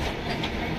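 A passenger train runs along the rails, a brief, steady rumble with a clickety-clack texture, no voices.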